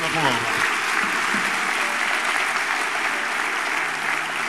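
A church congregation applauds together, a steady, dense wash of clapping that holds loud and even throughout, with a brief murmur of voices at the very start.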